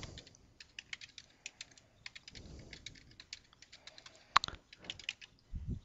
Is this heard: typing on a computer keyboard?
yes